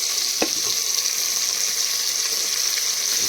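Ginger-garlic paste sizzles steadily in a hot pan as tomatoes, potatoes and soybeans go in for a soybean khichdi, a close, continuous frying hiss with a brief clunk near the start.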